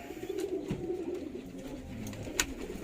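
Pigeons in a racing pigeon loft coo softly and steadily, their low throaty calls running on without pause, with a faint click and a brief rustle in the background.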